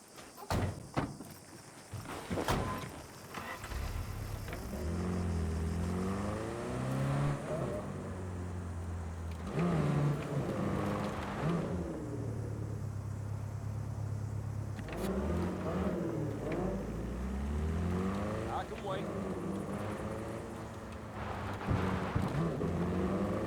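Car driving in Cyberpunk 2077, with a steady low engine drone throughout, shifting pitch as it moves and rising in brief revs, plus a few thuds at the start and faint voices mixed in.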